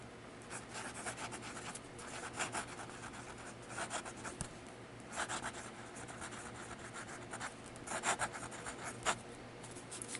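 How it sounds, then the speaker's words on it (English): A Lingmo Lorelei fountain pen scratches quickly across paper in rapid bursts of scribbling strokes, soft and close, with short pauses between words and no voices. "Now we'll do some fast writing."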